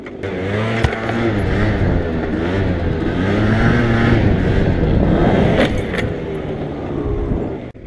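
Motorcycle engine revving hard through repeated wheelie attempts, rising and falling in pitch with throttle bursts, loud and close throughout with no talk.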